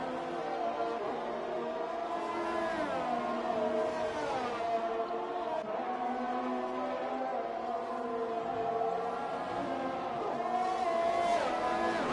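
Formula 1 race cars from an online league round at Australia whine steadily together, several engines layered in a continuous high-pitched drone with shifting pitch as cars exit the pits; no talking.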